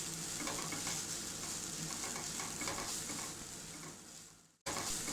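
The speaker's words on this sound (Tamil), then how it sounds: "இஞ்சி பூண்டு பேஸ்ட் போட்டு நல்லா அதோட பச்சை வாசனை போகிற வரைக்கும் வதக்கணும்." Onion and ginger garlic paste sauté in a pan with steady, loud sizzling and stirring, then a brief near-silent break before the frying sound resumes.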